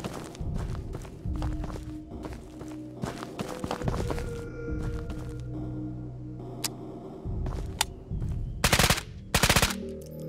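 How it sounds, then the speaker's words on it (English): Rapid automatic gunfire in the video game Ghosts of Tabor rattles in repeated loud bursts, close and dense, broken by short pauses and quick footsteps, ending in a few very sharp high bursts. "The fire rate is so fast."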